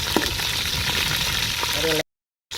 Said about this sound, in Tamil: இதை நல்லா எண்ணெயில் பொறிச்சு எடுத்துக்கலாம் ரெண்டு பக்கம் நல்லா பொரியணும்